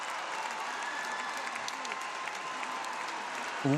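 Steady applause and crowd noise fill an ice rink at a European figure skating championship after an ice dance free dance, fairly distant and even, ending with a brief louder burst.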